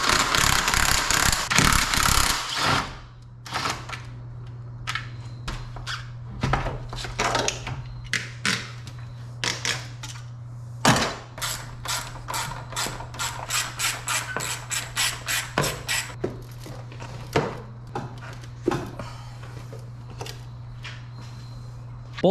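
Parts being removed from the engine bay of a 2013 Ford Mustang GT, with coolant tanks and lines pulled free: repeated close scraping, rubbing and clicking handling noises in irregular bursts, over a steady low hum and with no talking.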